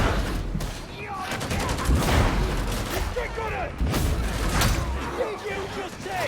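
Rapid plasma gun fire in the Warhammer 40,000 Darktide video game: dense, repeated close blasts and booms run through the whole stretch, with game voices and effects mixed underneath.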